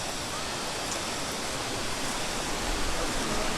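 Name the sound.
moving river water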